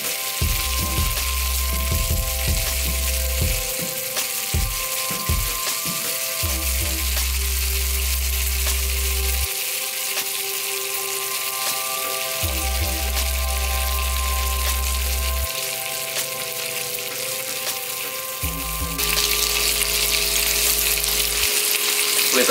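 Spicy meatballs and chicken sausages sizzling on a grill, a steady bright crackle and hiss running throughout, with intermittent low thumps and handling noises.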